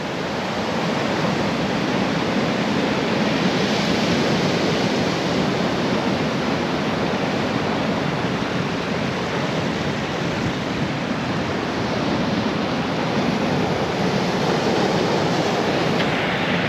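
Heavy surf breaks and splashes against rocks at high tide on the North East coast, a loud, continuous roar of churning water that stays close and unbroken throughout, with no voices.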